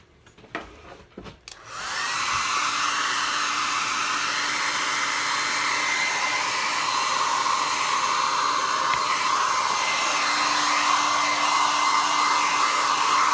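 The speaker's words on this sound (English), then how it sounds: "I should probably blow dry that." A hair dryer drying paint on a postcard tag, with a few clicks and handling noises before it switches on into a loud, steady, close blowing roar that continues without a break.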